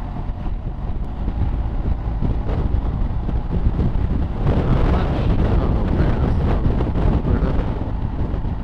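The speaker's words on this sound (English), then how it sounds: "Big gust of wind." A strong gust of wind buffets the microphone outdoors beside a 2019 BMW R1250 GSA motorcycle, a loud, continuous low roar and rumble that swells and surges across the whole stretch.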